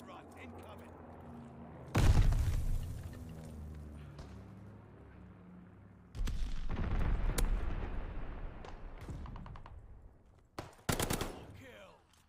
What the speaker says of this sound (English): Allies called a bombing run.